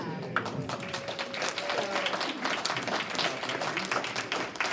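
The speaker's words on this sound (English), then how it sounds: "a round of applause to these wonderful candidates" Audience applause for candidates at a DuPage County Board candidate forum, moderately loud scattered clapping from a modest crowd, sustained and even throughout.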